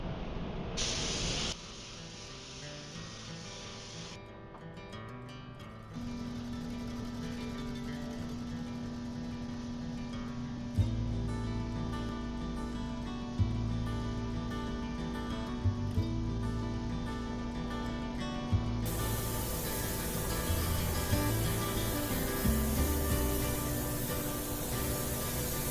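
Advanced Auto Paint being sprayed onto a car under rebuild, long continuous hissing bursts that shift in character across the stretch, with intermittent low rumbling thumps in the background.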